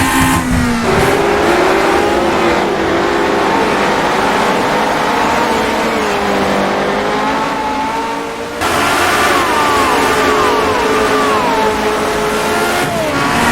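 A race car engine in rFactor 2 drives a triangular road circuit, loud and continuous, revving up and down through gear changes with a brief dip near the end, no voices.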